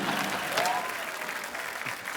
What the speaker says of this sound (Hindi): सरला के लिए जोरदार तालियां